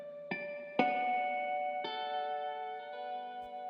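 A lo-fi guitar loop layered with a harmonic part, lower tones cut and heavy reverb added: bright chiming plucked notes enter one after another, each ringing out long and overlapping in a shimmering wash, with no talking.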